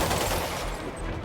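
Rapid bursts of gunfire in the Spider-Man Remastered video game, dense and loud, filling the whole short stretch without voices.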